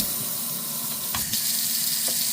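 Eight cups of water pour steadily from a tap into a cooking pot in a home kitchen, a continuous close, rushing splash with faint clinks and no talking.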